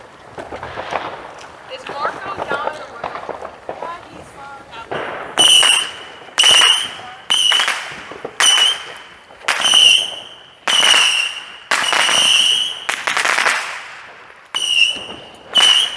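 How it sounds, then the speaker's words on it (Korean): Fireworks bursting at a US Independence Day celebration, a run of about ten loud crackling blasts in close succession after a stretch of people talking, with whistling tones between the bangs. "집에서 가족들이 몇몇이 나와서 이제 본격적인 불꽃놀이를 즐기려 하는 것 같습니다"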